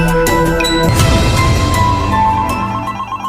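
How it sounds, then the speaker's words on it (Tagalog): A mobile phone ringtone plays loud and close, a tuneful repeating melody of bright tones that fills the whole stretch with no one talking over it. "Andro, ang imong cellphone."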